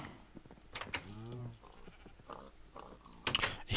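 Sheep bleating in the video game Minecraft, one clear wavering bleat in the middle, mixed with quiet computer keyboard typing and clicks around it.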